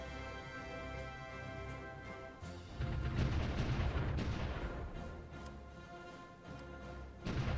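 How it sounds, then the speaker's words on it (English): Artillery bombardment of enemy units in a strategy video game: a sustained roll of distant booming fire that swells after a quieter start, then eases and surges again near the end. "we should be able to bombard a lot of these units"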